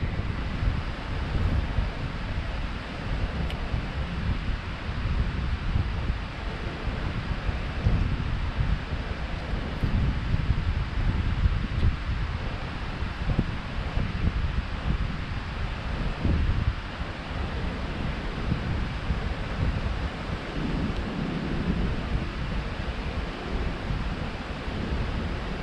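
Rough, agitated sea waves and wind roar in a continuous broad wash at a fishing spot on the shore, loud and steady throughout with no voices.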